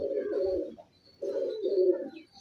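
A pigeon coos nearby in two low, rolling phrases separated by a short pause, with no talk.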